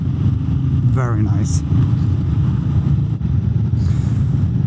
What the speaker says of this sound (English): The sound of these Royal Enfields is really good.